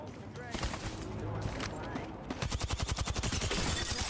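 Rapid gunfire in Apex Legends: scattered shots in the first seconds, then a fast automatic burst of evenly spaced cracks toward the end, close and fairly loud, with faint voices underneath.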